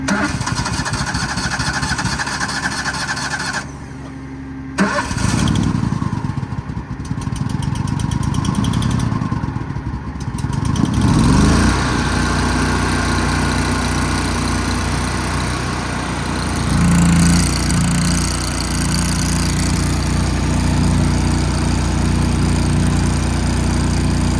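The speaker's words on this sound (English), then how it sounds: "Well, the welder runs, but it's about out of gas." An engine-driven welder mounted on a 2018 Kenworth T370 service truck with a Summit bed runs loud and close while nearly out of fuel, its steady drone dipping and sputtering unevenly before settling, with no talking.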